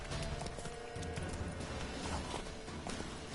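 Galloping horse hooves from riding in The Witcher 3 on PS4, a steady clip-clop rhythm that holds close and even throughout.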